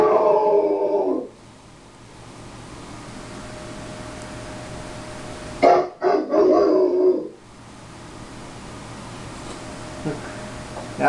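A dog barking and howling indoors, with a loud burst at the start and another mid-way, separated by quiet stretches.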